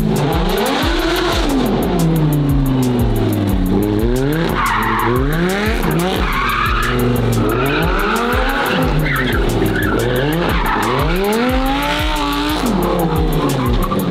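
A McLaren 720S GT race car's tires skid and squeal on polished concrete while the engine revs up and down in repeated surges, loud and close, with sharp pulsing exhaust crackle and no voices.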